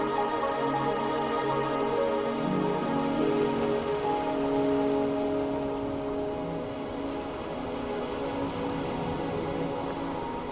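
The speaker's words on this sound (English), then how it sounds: "the rain won't last much longer" Rain falls steadily in the video game Wuthering Waves, a soft, even hiss of drops on surfaces that continues throughout with no talk.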